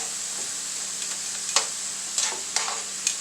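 French fries crisp up in hot oil on very high heat, a steady bright hiss punctuated by four or five short scraping clicks as tongs turn them, close and without talk.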